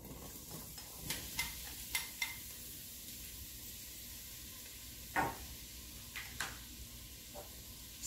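Chopped garlic and diced fennel bulb sautéing in a pan for fennel and saffron risotto, with a soft steady sizzle broken by a few sharp clinks and scrapes of a utensil stirring, fairly quiet and close.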